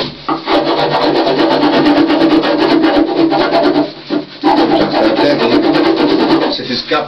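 A hand file rasps steadily along a wooden cello neck, close up, with dense repeated strokes and brief pauses near the middle and the end.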